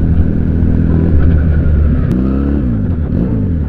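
A Benelli Patagonian Eagle 250 motorcycle rumbles loud and close while riding, its deep throbbing engine note holding steady and then shifting pitch as the speed changes.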